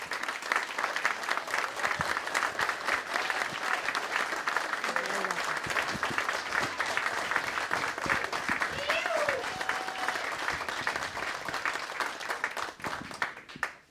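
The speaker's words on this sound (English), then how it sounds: "Round of applause for Joe and Patrice." Sustained applause from a crowd at a Queens Republican Club event, steady and dense clapping for the whole stretch, with occasional cheers mixed in.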